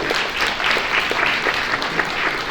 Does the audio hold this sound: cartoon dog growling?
no